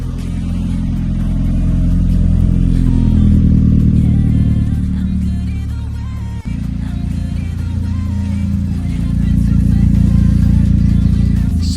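A Seat Ibiza 6L with a 1.8T turbo petrol engine idles steadily after warming up, a loud continuous low hum with a brief dip partway through and no talking.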